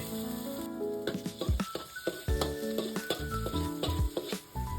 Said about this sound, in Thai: ใส่กระเทียมลงไปผัดจนหอม